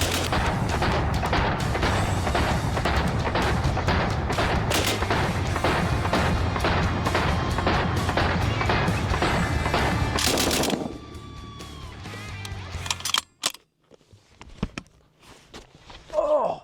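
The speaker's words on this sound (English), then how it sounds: "with no exaggeration, probably the most pleasant light machine gun I have shot" A Lewis light machine gun fires in rapid, loud bursts of sharp reports for about ten seconds, then the shooting stops and only faint scattered sounds remain.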